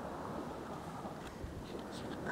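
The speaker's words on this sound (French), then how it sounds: "Un petit peu de vent, mais c'est agréable. Une petite brise marine." A light sea breeze blows across a beach, a steady, soft rush of wind noise with a faint surf-like wash underneath, lasting the whole stretch without any talking.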